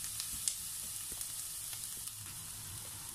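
Onions sautéing in a tablespoon of cooking oil in a pan for chicken fried rice, heard as a faint, even hiss with a few small crackles and no voices.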